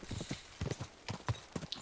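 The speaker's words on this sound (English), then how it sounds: "What a beautiful horse." Horse hooves clip-clop on a road in the medieval Bohemian countryside of Kingdom Come: Deliverance 2, a steady run of close, crisp hoofbeats with no talk over them.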